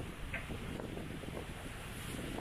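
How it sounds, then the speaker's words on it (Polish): Strong wind of about 32 knots at Anchor Bay in the Bristol Channel during a sailing trip, a constant roaring rush buffeting the microphone with wash from the sea underneath, unbroken throughout. "w tej chwili wiatru jest 32 węzły"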